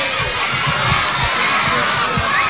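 A crowd of over 1000 people in front of the Government Palace cheers and shouts as President Ollanta Humala jogs past, a dense, steady roar with children's voices mixed in and no pauses.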